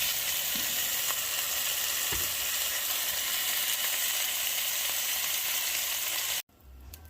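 A batch of oxtails sears in a pot over medium-low heat, giving a strong, even sizzle with a few soft knocks, until it cuts off abruptly near the end.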